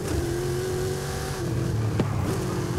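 A Dodge Super Bee in the racing game Forza Horizon accelerating hard, its engine holding a steady droning tone that dips briefly and climbs again, with a sharp click partway through.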